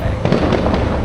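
Fireworks near the Enchanted Kingdom amusement park, a quick run of muffled pops and booms over a constant low rumble, fairly loud and close.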